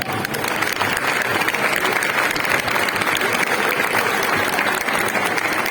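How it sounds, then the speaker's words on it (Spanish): Sustained applause from a crowd at a cheese auction after the prize-winning Gamoneu cheese competition, steady and dense clapping throughout with no pauses. "lo cual merece un aplauso"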